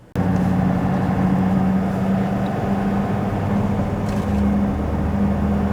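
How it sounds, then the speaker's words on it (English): A wrecked, repaired 2021 Ford F250 Super Duty truck with big wheels drives on a local road, giving a loud, steady engine drone and road rumble heard from inside the cab. "let's take these big wheels on the road."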